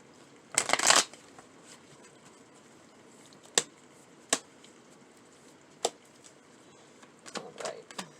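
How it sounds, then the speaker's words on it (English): Tarot cards are riffled in a quick flurry, followed by several sparse, crisp card taps and a few soft shuffling sounds at the end. "Let me do a shuffle."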